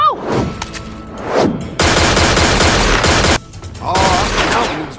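Video game gunfire from Tales From The Borderlands: sharp single shots, then two long dense bursts of automatic fire, loud and close, with brief pauses between.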